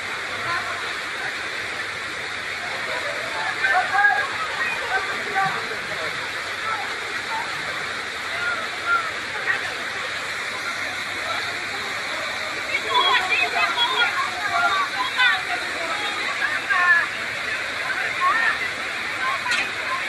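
Water rushes steadily over a waterfall as a broad, continuous roar, with faint murmuring voices and occasional sloshing and splashing rising above the wash.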